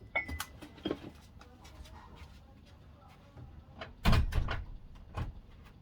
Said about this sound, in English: Let me shut the door.